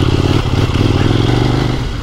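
A Kove 800X Pro adventure motorcycle's engine revs steadily under throttle, a loud, close, continuous growl with a rough mechanical clatter and no talking.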